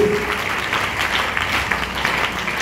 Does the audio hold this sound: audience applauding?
yes